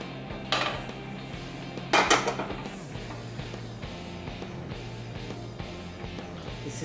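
A spoon stirs white sauce into creamy tomato soup in a pot, with soft scraping and a couple of sharper clinks against the metal at close range over a quiet room.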